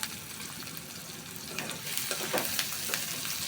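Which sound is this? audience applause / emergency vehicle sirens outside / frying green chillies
frying green chillies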